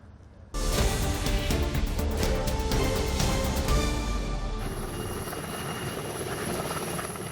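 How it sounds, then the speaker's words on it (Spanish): A GES rescue helicopter lands on the firefighters' helipad at Adeje. The loud whirring rotor and engine roar cut in suddenly after a short silence and stay close and steady, easing slightly toward the end. "Este es el momento en el que el helicóptero del GES aterriza en la helisuperficie de bomberos de Adeje"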